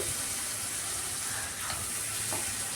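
A low, steady sizzle of fish curry masala (chili powder, turmeric) being fried with a little water in a pan, constant and close with no voices over it.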